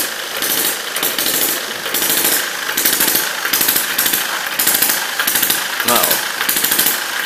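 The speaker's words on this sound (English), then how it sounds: "the saw is advancing into the log, and it seems to be cutting without too much strain on the engine." Sawmill driven through a clutch by a hit-and-miss engine cutting a log, a loud, continuous rough rasping saw noise with rhythmic pulsing from the engine, while someone talks briefly over it.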